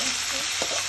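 Amaranth greens fry with browned garlic and are stirred in a hot pan, making a dense, continuous sizzle with a brief scraping stir partway through.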